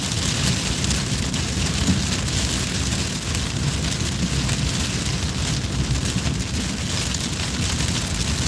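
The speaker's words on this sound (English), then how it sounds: "I think we have rain." Rain falls continuously, an even wash of pattering drops with a low rumble beneath, loud and unbroken with no voices.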